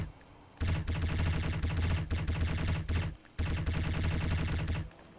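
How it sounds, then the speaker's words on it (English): Institute suppressed pistol from Fallout 4 firing in two long rapid bursts, a dense stream of closely spaced shots broken by a short pause, loud and near with no talk. "Now you'll witness the firepower of this fully armed and operational Institute suppressed pistol."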